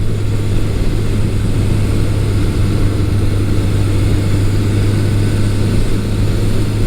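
A 1983 Suzuki GS1100E motorcycle on a test ride, its engine giving a steady, loud low drone with a strong constant hum and rushing wind noise, unbroken throughout.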